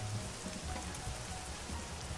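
Steady rain in the American Truck Simulator driving game, a dense continuous patter with a low rumble underneath, no talking.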